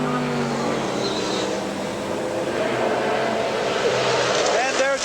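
A 1982 Porsche 914 race car passes during an IMSA Camel GT race at Lime Rock, its engine note rising and falling with a Doppler sweep under continuous commentator talk.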